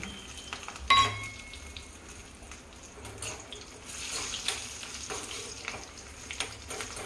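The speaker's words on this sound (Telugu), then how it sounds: "కొంచెం ఆయిల్ కొద్దిగా వేడైన తర్వాత కాస్త దూరం నుంచి డ్రాప్ చేయండి వీటిలో. షాలో ఫ్రై అనమాట" Green chillies shallow frying in a little hot oil for a lemon dal dish, a steady close crackling sizzle with a sharp splash around the second mark as they drop in, continuing under faint clatter.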